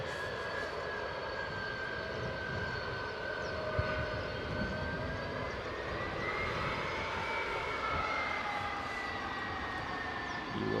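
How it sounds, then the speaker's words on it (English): Jet engines of a Delta airliner taxiing at Edinburgh airport, a steady loud roar with a whine that rises and falls in pitch as the aircraft moves, heard from a distance outdoors. "You will hear the change in pitch there, and that is because the Delta is moving."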